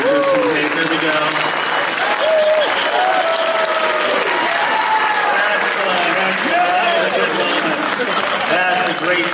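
An audience at a live retro gaming Q&A panel in Portland claps and cheers in a dense, sustained burst of applause, loud and close throughout, with excited voices shouting within the crowd.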